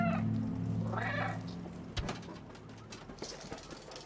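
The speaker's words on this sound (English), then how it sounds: "I can meow in game." A cat in the video game Stray meows once, a short, clear, fairly close cry, followed by soft ambient game sounds and a few light clicks.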